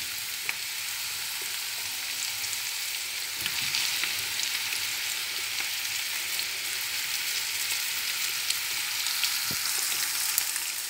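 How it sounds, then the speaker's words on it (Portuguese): Boletus mushrooms fry in a pan with a steady, even crackling sizzle, close and continuous with occasional brighter pops, no voices. "Deixa fritar um pouquinho."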